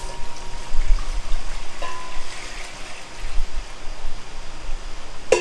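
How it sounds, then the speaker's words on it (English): Water poured into a cooking pot for boiling in a kitchen preparing Hokkien flat noodles, a close, loud, continuous gurgling splash with uneven surges, no talk. "boil the water"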